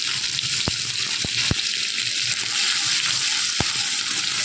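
Grated ginger and spices fry in hot oil in a pan, giving a steady loud sizzle throughout, broken by a few sharp clicks or taps of a utensil against the pan.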